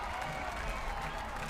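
Oregon softball crowd at Jane Sanders Stadium roars and applauds after a walk-off home run, a dense, continuous wash of cheering and clapping heard from a distance.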